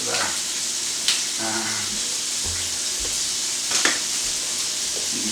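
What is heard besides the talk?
bacon frying in a pan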